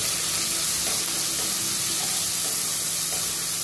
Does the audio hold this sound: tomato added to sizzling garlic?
yes